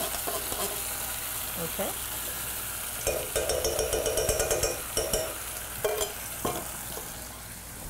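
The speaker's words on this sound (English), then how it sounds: "We've got the refried beans that we're going to heat up here" Refried beans heating in a pan give a steady sizzle with repeated scraping and stirring strokes against the pan, close and fairly loud, and a voice speaks briefly.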